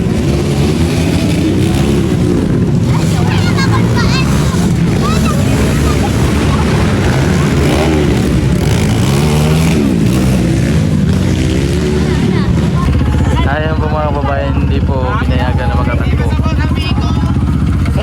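Motorcycle engine running loud and close, a continuous rough drone with shifting pitch as it revs, while people talk over it throughout.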